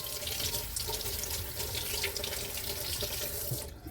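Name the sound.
rinsing hands under running tap water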